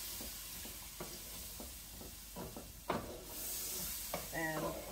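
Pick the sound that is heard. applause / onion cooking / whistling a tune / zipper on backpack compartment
onion cooking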